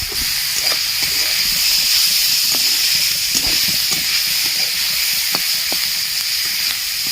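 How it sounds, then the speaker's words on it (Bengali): Vegetables frying lightly with a pinch of salt in a hot pan for homemade chicken soup, a steady close sizzle and hiss with small crackles and spoon stirs throughout. "সবজিটা আমি একটু হালকা করে ভেজে নেব সবজির মধ্যে সামান্য একটু নুন দিয়ে দেবো"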